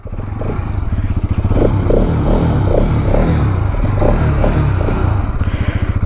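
Exhaust of a 2023 Bajaj Pulsar NS 200 motorcycle rumbles loudly up close, a rapid low throb that rises in a few revs before settling back, with no talking.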